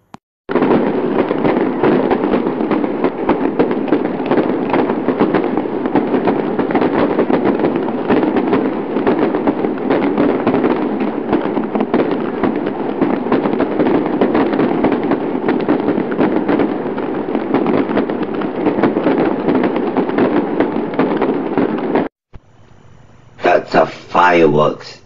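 Dense, continuous crackling bursts of fireworks rumble and pop for a long stretch, loud and close, then cut off abruptly followed by a short quieter sound.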